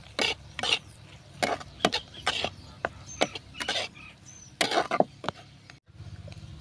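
Potato bhaji with onion and turmeric being stirred in a pan, a spoon scraping and clacking in short uneven strokes near and fairly loud over a soft background hum.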